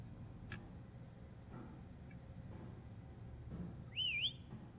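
A game character in the indie horror game Lazaret gives a short, clear rising-and-falling whistle near the end, over a low, rumbling ambient background with a few faint ticks.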